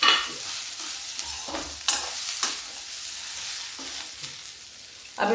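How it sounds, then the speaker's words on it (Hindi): Okra frying in a pan with onion and spices gives a continuous close sizzle, broken by several sharp scraping stirs of a spatula. "अब इसमें भिंडी डाल दें।"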